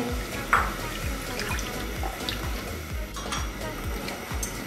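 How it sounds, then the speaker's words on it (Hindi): A spoon stirs sugar into hot milk in a pot for mango custard ice cream, making a repeated rhythmic scraping and swishing sound close up, with faint background noise and no speech. "अब चीनी ऐड करेंगे, 1-2 मिनट के लिए इसको मिक्स कर लेंगे।"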